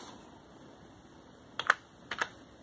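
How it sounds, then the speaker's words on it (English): A few sharp keyboard key clicks, heard as two small clusters of quick taps on a Mac computer keyboard while installing macOS Sierra, close and moderately clear over quiet room noise. "My keyboard not working."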